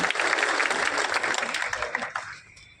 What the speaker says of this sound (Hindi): इनके लिए भी ताली बजा के स्वागत करें